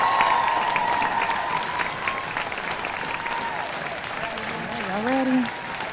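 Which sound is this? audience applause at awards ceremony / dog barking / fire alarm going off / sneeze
audience applause at awards ceremony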